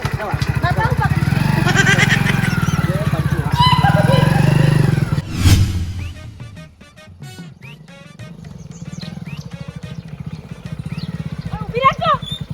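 A running motorbike idles with a steady low engine rumble, later fading under overlapping voices of people talking and calling out nearby.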